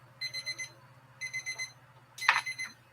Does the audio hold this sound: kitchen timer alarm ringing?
yes